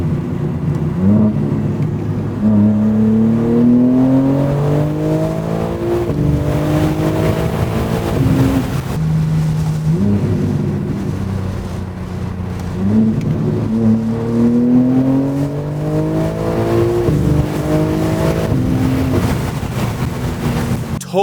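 A BMW G80 M3 accelerates hard through quick gear shifts, its engine note rising in repeated sweeps that drop sharply at each lightning-fast upshift, loud and close, heard from inside the car with no talk.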